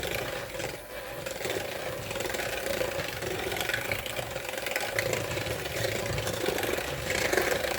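An electric mixer whisks egg into chocolate chip cookie dough in a bowl, giving a close, steady whirring drone that holds at an even level throughout with no talking.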